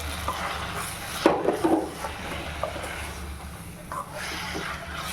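Chicken with turmeric and garam masala frying in a pan, soft sizzling under light stirring and utensil scrapes, with a sharper clatter of spoon against pan near the middle; quiet and close.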